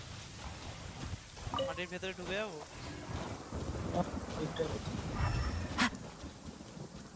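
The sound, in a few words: rain and thunder in video game Genshin Impact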